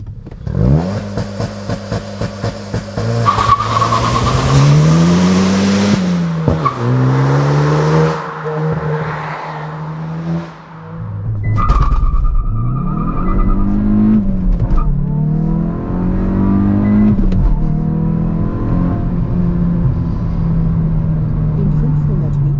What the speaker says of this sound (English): We can now actually engage the launch control here, get to a standstill and see how fast it goes.